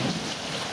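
Steady rain pouring down in a dense, even broadband hiss that holds level for under a second, with no voices and nothing else breaking through the wash.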